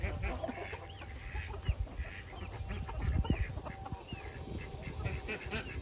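Chickens cluck and chatter close by, with a rooster's calls mixed in among scattered bird sounds and faint rustling, no talking.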